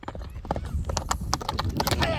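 A horse gallops a short distance, a quick run of sharp hoofbeats at close range, with a voice speaking over it.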